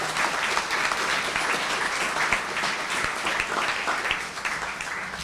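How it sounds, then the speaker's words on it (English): An indoor crowd at a 100th birthday party applauds steadily, a dense even patter of many hands clapping that tapers slightly at the end. "How about a round of applause for yourselves?"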